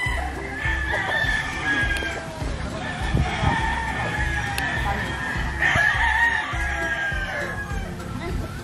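Native free-range chickens on a farm near the Chocolate Hills, with hens clucking nearby and roosters crowing repeatedly over a busy outdoor background.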